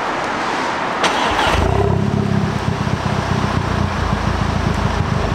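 An Audi engine cranks and catches, then settles into a steady, loud running idle with a slight rising rev, heard up close with no talking.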